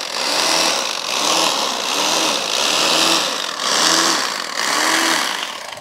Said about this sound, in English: Now the knife, it does not go all the way, so we have to kind of finesse it down through here.